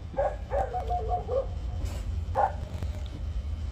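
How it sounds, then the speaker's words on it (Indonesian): A dog barks outdoors, two short bursts of yapping barks followed by a single later bark, moderately distant over a steady low rumble of background noise. "Itu anjingnya di luar sono."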